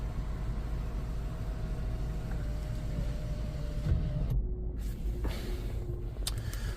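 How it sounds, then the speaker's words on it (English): Lexus LX570 sunroof motoring open and closed on one-touch inside the cabin, a steady whirring drive over a constant engine idle hum, followed by a brief clunk as it stops and a second short whir. "we're going to go ahead and one-touch it open. And we will one-touch it close."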